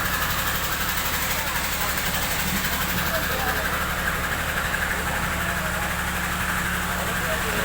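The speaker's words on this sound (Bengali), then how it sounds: "দেখেন রাস্তা দিয়ে গাড়ি যাচ্ছে।" Road traffic on a rainy day, with a steady engine drone and rumble that holds constant throughout, sounding like vehicles passing close by, mixed with a broad wet hiss.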